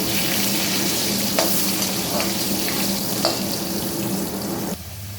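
Sugar sizzles in hot oil in a pan with potatoes, at the start of a katla fish curry. A loud, continuous, close crackling hiss runs throughout, with a few faint scrapes, then drops suddenly near the end.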